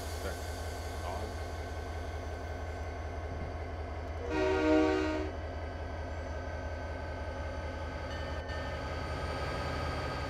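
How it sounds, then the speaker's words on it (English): Train in Railworks 3 on a Union Pacific cement run, a steady rolling rumble with a loud, brief horn blast midway, heard close over continuous engine drone with someone speaking briefly. "Hey, there's a train."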